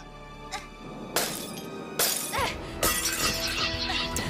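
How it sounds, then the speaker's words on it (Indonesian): A car windshield smashed with an emergency hammer in an animated scene: three sharp, loud shattering bursts of breaking glass, each trailing into scattered tinkling debris, with no talk. "hancurkan kaca depan dengan palu darurat"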